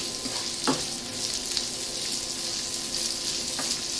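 Mince for spaghetti bolognese frying in a pan while being stirred, a steady close sizzle with occasional scraping clicks from the spoon, no talking.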